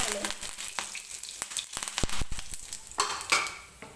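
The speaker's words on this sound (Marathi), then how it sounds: "आता मी याच्यामध्ये टाकणार आहे मोहरी, थोडेसे जिरे, कढीपत्ता" Mustard seeds, cumin and curry leaves crackle and sizzle in hot oil with rapid popping bursts, loud and close, over a short few seconds without talk.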